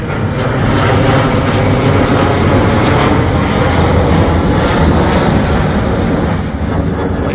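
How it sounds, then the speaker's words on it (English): An airplane near an airport drones loudly overhead in Orlando, Florida, a broad, steady engine roar that holds throughout and eases only slightly near the end. "watch the planes go over, you can do that here as well."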